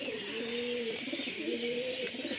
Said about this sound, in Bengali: পায়রাগুলো একটু জল খাইয়ে নিই।